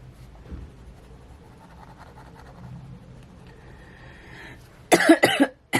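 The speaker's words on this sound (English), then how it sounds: "It's just a really persistent dry cough, and it's so annoying." A persistent dry cough breaks out near the end, a few loud, harsh bursts close to the microphone after quiet scratching of a pen on paper during a colouring session.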